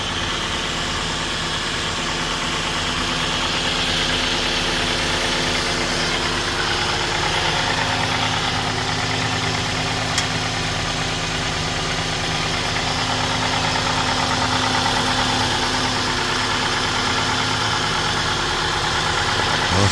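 A 2011 Ford Escape's 2.5L four-cylinder idles steadily for the whole stretch, a constant even hum with faint ticking and no voices.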